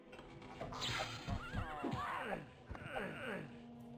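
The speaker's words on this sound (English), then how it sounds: "Did I just hear a horse?" A centaur in Daggerfall gives a horse-like neigh and whinny, loud and close, with a few rising and falling cries over a steady background hum.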